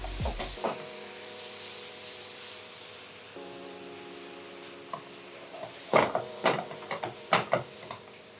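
White wine poured into a pan of caramelized onions sets off a steady sizzle, with sharper crackles and stirring clatter building near the end; no one speaks.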